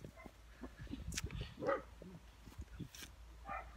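A dog barks repeatedly outdoors at a countryside dacha under construction in Belarus while chasing butterflies, the barks scattered over steady background noise and a little distant talk.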